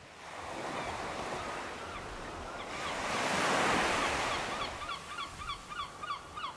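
Sea waves wash onto the beach at the Shangri-La Al Husn Resort in Muscat, a steady surf wash that swells loudest midway, with honking goose-like bird calls repeating over it toward the end.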